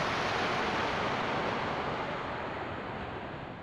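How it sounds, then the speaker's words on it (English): Ocean waves surge in a video game, a loud, dense, continuous wash of surf that eases slightly toward the end, with no voices. "The sound of waves dominated the air"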